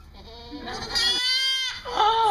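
Baby goats bleat loudly and close by, several drawn-out wavering cries in quick succession, like kids calling for their mother.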